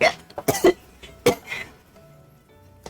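A person coughs a few times in short, sharp bursts, fairly close, with quiet gaps between them.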